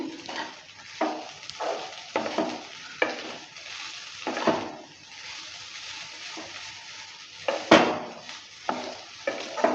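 Veg chowmein noodles with spices stirred and tossed in a pan, repeated scraping and clattering strokes of a spatula over a soft frying sizzle, irregular rhythm with louder bursts, close by, no voices.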